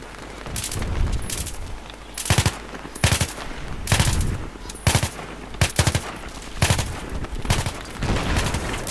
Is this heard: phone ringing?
no